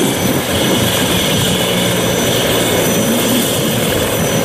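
A blue-and-white toy police helicopter gives off a loud, continuous whirring drone with a steady engine-like buzz, unbroken and without speech.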